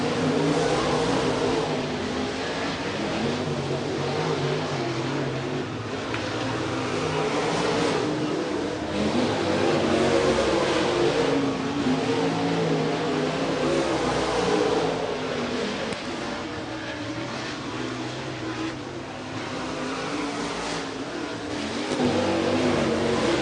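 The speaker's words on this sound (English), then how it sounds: "Looks like we're going to hot lap only 3 cars here." Late model race cars run hot laps at River Cities Speedway, three cars in the session, their engines roaring and revving in long continuous waves as they circle the track, loud and sustained with no talk.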